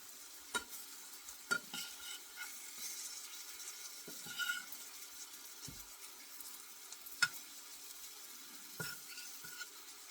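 Green tomato and squash slices fry in a pan with a soft continuous sizzle, broken by scattered scrapes and clinks as pieces are flipped and turned, fairly quiet and close.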